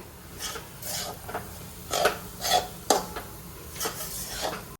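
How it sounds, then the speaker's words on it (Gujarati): A utensil stirs flour roasting in a pan for Gujarati adadiya pak, making repeated scraping and clinking strokes at an uneven rhythm, close and fairly loud, with no talking. "હલાવ્યા શેક્યા કરવાનું બરાબર ને કન્ટિન્યુ એને હલાવવો પડે"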